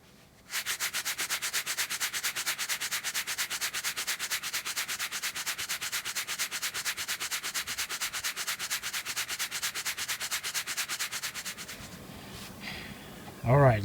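Nylon fabric is rubbed in an abrasion test with fast, evenly spaced strokes for about eleven seconds. The strokes come close and steady, then stop, followed by faint handling sounds.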